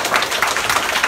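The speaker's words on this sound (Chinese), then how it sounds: "我们再给他热烈掌声" Audience clapping at a seminar gathering in Luzhou, a brief burst of steady, moderately loud applause from a group.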